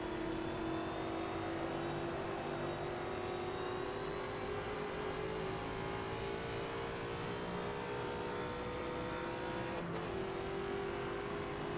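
A 1960s vintage race car's engine revs hard and steadily climbs in pitch at Fuji in Assetto Corsa, a loud continuous drone held close with no talking over it.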